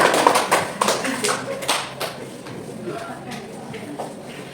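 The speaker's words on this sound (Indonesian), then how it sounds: "Tepuk tangan untuk kita semua." Students in a classroom clapping their hands together, a loud burst of close claps at first that thins out and fades, with voices in the background.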